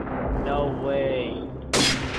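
Gunfire in the Call of Duty 4 video game, including a sharp loud burst near the end, mixed under players' voices.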